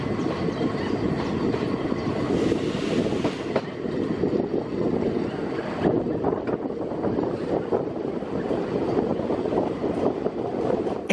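Old narrow gauge Lößnitzgrundbahn train running in Germany, a steady loud rumble of wheels and carriage with faint rhythmic clatter and wind buffeting the microphone, continuous throughout with no talk.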